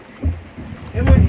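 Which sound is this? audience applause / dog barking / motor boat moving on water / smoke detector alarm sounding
motor boat moving on water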